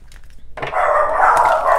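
Several dogs bark and growl loudly at a living room window, a dense, continuous run of barks that starts abruptly and keeps going without speech.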